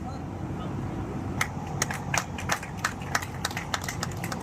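Audience clapping at an award ceremony for a scholarship event, sparse claps building into scattered applause over a steady crowd murmur, moderately distant.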